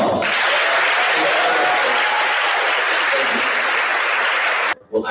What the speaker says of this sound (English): Give these folks a round of